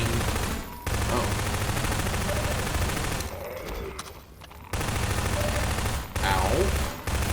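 Gunfire in Half-Life 2: rapid bursts of shots come in repeated volleys separated by short pauses, loud and close, mixed with game ambience.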